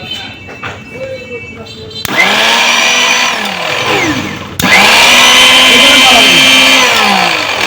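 A Vision electric kitchen blender switched on twice, each start a sudden loud whirring motor that swoops in pitch as it spins up and holds a steady roar, with talking at the start before the motor begins.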